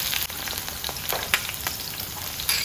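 Spring onion and regular onion sauté in vegetable oil with a little coconut oil, giving a dense, steady sizzle close up, with light stirring clicks and no talking.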